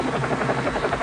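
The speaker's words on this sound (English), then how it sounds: "helicopters" A helicopter thrums steadily with a fast rotor pulse and a droning buzz, fairly close and continuous, with no voices.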